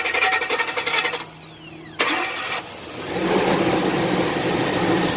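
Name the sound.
car engine revving during a snap throttle fuel pressure test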